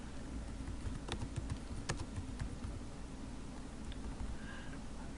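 Keys tapped on a computer keyboard while a message is typed, a steady patter of soft clicks with a few sharper strikes over a low hum, close by and with no talking.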